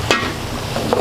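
Potato pieces fry in hot oil, giving a steady crackling sizzle with a couple of louder spits and stirring bursts, heard up close.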